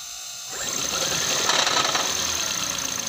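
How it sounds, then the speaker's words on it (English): A Toyota Prius C hybrid with a lean-running fault starts up and runs rough, a close, uneven engine clatter and rattle rising after a brief quiet moment. "So the vehicle is sounding really rough, bad, whatever you want to call it."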